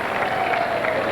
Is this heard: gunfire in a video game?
no